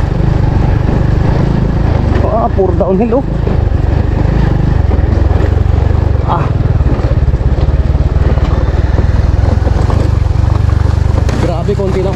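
A motorcycle engine drones loud and steady while riding downhill on a rough road in Zamboanga del Norte, with rattling clatter from the bumpy surface and a rider talking briefly over the noise.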